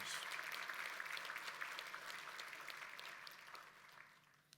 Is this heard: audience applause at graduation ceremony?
yes